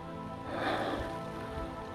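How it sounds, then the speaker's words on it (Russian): Very fine light rain falls high up on a rocky hillside, a soft, faint, even patter and hiss with a slight swell in the middle, no voices. "Дождь очень мелкий."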